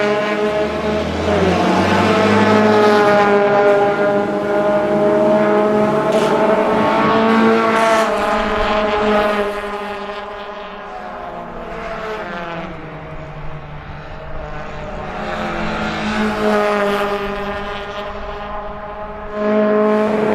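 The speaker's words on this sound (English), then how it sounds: "Very consistent lap times we see with these cars coming around this piece of freeway." Volkswagen race cars on a freeway circuit roar past in turn, engines rising and falling in pitch as each passes close by, with a quieter lull in the middle before more cars approach loudly.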